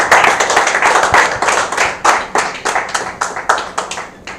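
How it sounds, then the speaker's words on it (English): An audience applauds entrepreneurs at a business acceleration programme event, with loud, close clapping that falls into a fairly regular rhythm of distinct claps for several seconds. "A round of applause to the entrepreneurs."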